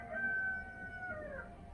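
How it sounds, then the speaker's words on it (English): Rooster crowing in the distance in Nigeria, one faint drawn-out cock-a-doodle-doo heard as background noise outdoors, with no one talking. "That is the cock crowing."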